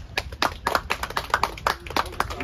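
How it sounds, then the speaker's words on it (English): Boxing crowd at a Memphis State boxing match clapping in quick, uneven bursts of many hands, close and lively, with scattered shouts mixed in. "If you think my boy Josh won, make some noise"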